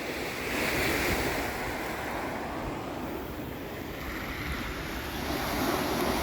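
A stormy sea surge driven by a sirocco wind on the Ligurian coast. Waves crash and roar without a break, with heavy wind buffeting throughout.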